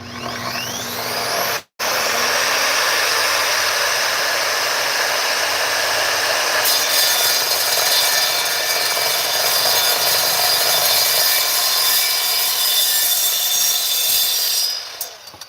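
An Evolution saw cuts through metal, a loud sustained whine and grinding roar that starts after a brief pause, holds steadily for over ten seconds, then stops, with no talking.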